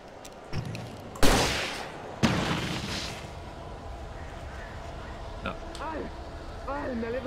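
Two sharp gunshot blasts in the video game Alan Wake Remastered ring out close together early on, each trailing off, followed by quieter ambience and faint chirping bird-like calls.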